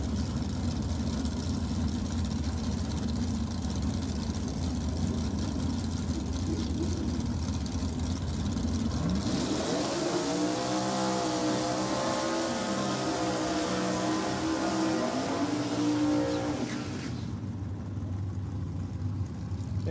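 Drag race cars launch and run down the strip, a low engine rumble that erupts into a loud, rising roar with climbing pitch sweeps, then cuts back to a distant drone.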